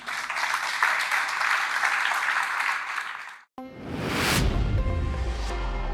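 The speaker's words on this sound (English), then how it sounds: "a big round of applause for our speaker, please" A conference audience applauds a speaker after a talk on multi-cluster controllers, a sustained wash of clapping that cuts off briefly and then resumes with a louder, fuller mix.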